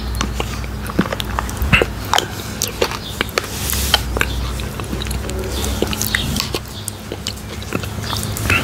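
Close, intimate eating of Skyr raspberry quark with fruit pieces, with soft wet mouth sounds, smacking and swallowing repeating irregularly throughout, and no talk.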